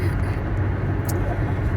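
Steady low rumble of a car being driven on the road, a continuous engine and road drone from inside the vehicle with no talking.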